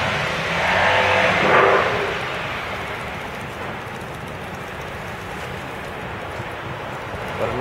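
A Jaguar F-Type sports car passes on a London street, rising to a broad whooshing rush early on, then fading into steady traffic and wind noise in the background.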